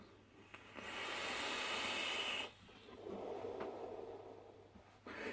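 Vapour from a VCP Piglet styled series vaping mod is drawn and exhaled in two long, breathy hissing puffs, the first louder and steadier, the second softer and trailing, with no talking.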